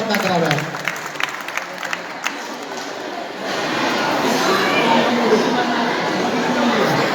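An audience applauds in approval of a family at a Jain parna mahotsav celebration, clapping steadily and growing fuller and louder halfway through, with crowd chatter mixed in.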